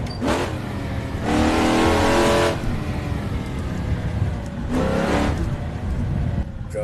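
A 1966 Ford Mustang Fastback in the Assetto Corsa racing game runs a downhill touge road, its engine revving loudly in two long surges with a shorter burst between and quieter stretches, no talk.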